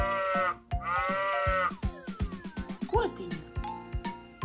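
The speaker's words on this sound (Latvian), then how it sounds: "Gotiņa." A toy cow gives a pair of electronic moos, followed by a bouncy musical tune from a children's musical toy car, with a clicking rhythmic beat running under it.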